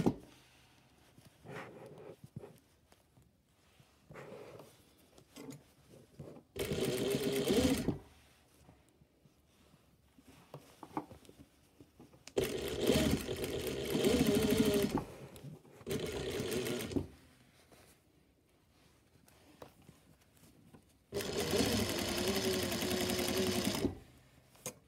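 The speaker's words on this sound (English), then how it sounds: "I'm sewing with the cuff inside out now, even though this is my right side" A sewing machine stitching a cuff onto a garment sleeve, running in several bursts of a few seconds each with quiet pauses and faint handling between, close and steady.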